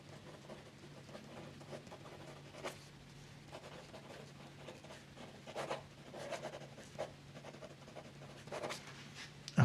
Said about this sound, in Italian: Il pennino è un pennino che comunque si fa sentire sulla carta.